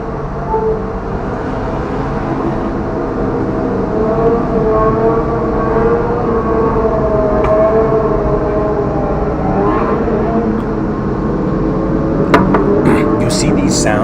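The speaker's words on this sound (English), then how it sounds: "driving sounds that we're hearing, these car noises" Cars drive past in a continuous, loud roadway rumble that swells slightly toward the end, with a voice talking over the traffic.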